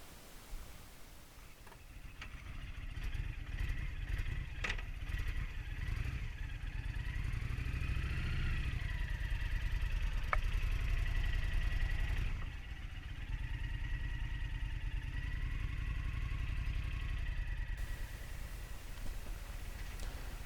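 A Honda VTX1300 motorcycle idles steadily nearby with a continuous low rumble, a few light clicks and a brief rise in pitch midway, and no talking over it.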